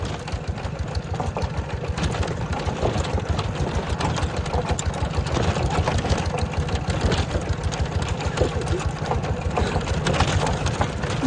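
An old farm tractor engine runs steadily up close, a dense low chugging with rapid regular pulses and rattling mechanical clatter that holds at constant loudness throughout, with no talk over it.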